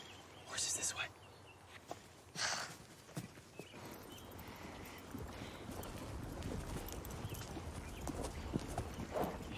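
Horse hooves clip-clop steadily at a moderate pace, fairly quiet and continuous, with a few brief breathy noises early on.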